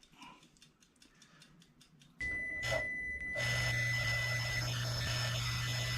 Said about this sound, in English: all 3 of my timers have gone off